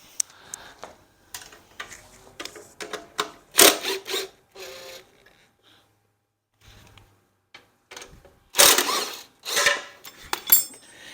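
Half-inch bolts and nuts being removed from the chain guard of a California Trimmer RL20h reel mower with a Honda GX120 engine, close metallic ratcheting and clicking in irregular bursts separated by quiet gaps.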